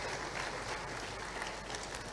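Audience applause in a university lecture hall during a vice-chancellor's distinguished lecture, a dense, steady patter of many hands clapping at once, sustained and fairly even across the moment.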